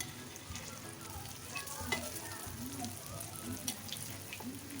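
Alu vadi, rolled colocasia-leaf slices, frying in already hot oil, giving a steady close sizzle with faint crackles and occasional soft pops throughout.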